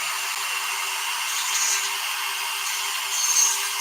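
A rotary tool with a diamond bit grinds against a stuck set screw in a differential housing of an Arrma 6S RC truck, giving a steady, high, hissing whine that swells briefly twice.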